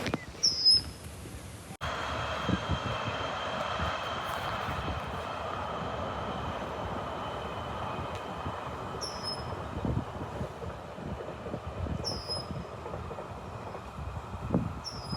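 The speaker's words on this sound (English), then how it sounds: "Minus the city train in the background." A city train rumbles steadily in the background throughout, a broad continuous drone with faint bird chirps above it and no voices.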